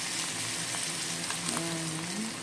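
Egg frying with shrimp in a hot pan gives a steady, dense sizzle and crackle, close and even throughout, with a faint low tone surfacing midway.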